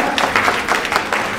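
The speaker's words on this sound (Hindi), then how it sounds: "जोरदार तालियां एक बार" Brief burst of clapping from a gathered audience honouring a kabaddi silver medallist, with individual claps audible in an uneven rhythm.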